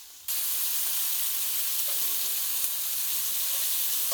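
Blackened shrimp fry in butter in a pan, a steady, close, even sizzle that starts abruptly after a brief quiet moment and holds at constant loudness throughout, with no talking.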